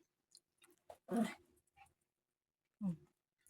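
A few short dog barks or yelps, moderately close, separated by brief silences.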